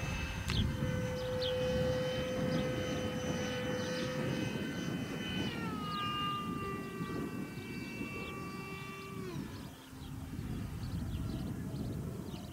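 A radio-controlled model plane flies at an RC flying event, its engine giving a loud, steady whine whose pitch drops in steps as it passes, over constant wind rumble.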